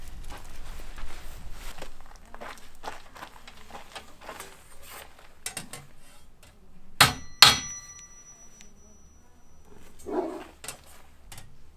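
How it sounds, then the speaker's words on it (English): Hammer strikes on a corner during a skoolie school bus build, two loud metallic clangs close together amid scattered knocks and footsteps. "May need to hit this corner with a hammer."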